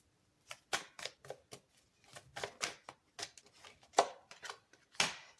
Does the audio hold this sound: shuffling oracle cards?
yes